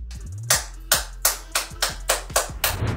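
A run of eight or so sharp, loud hand claps at a steady, slightly quickening pace, each followed by a short ring, with no talking over them.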